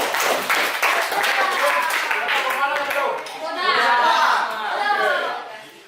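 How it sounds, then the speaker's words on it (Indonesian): A classroom of children claps hands together in a dense, bright patter lasting several seconds, with a teacher's voice and scattered child chatter mixed in over the clapping. "Baik, tepuk tangan."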